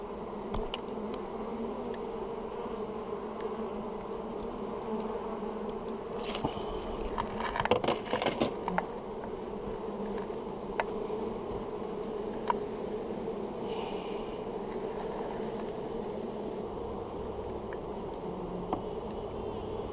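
A swarm of honeybees drones steadily and close by while bee packages are installed into hives, a continuous buzz broken by a brief burst of clattering handling noise partway through.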